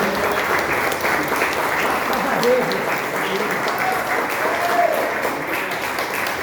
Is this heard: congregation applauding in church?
yes